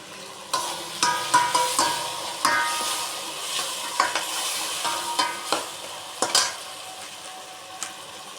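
Ingredients for a fish curry sautéing in a pan, a continuous sizzle broken by repeated sharp scrapes and knocks of a spoon stirring against the metal.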